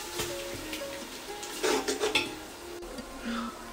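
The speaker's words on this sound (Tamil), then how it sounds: "இந்த இஞ்சி பூண்டு பேஸ்ட்டோட பச்சை வாசனை போகிற அளவுக்கு நம்ம இதை வதக்கிக்கலாம்" Ginger garlic paste is sautéed in a pan, with a spoon clinking and scraping against the metal in irregular strokes over a soft background sizzle, close by.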